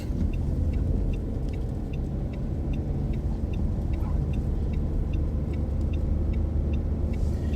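A car engine rumbles steadily on a driving-lesson route in Düzce as the driver releases the clutch while giving gas and pulls away, with soft rhythmic ticking throughout and no one talking.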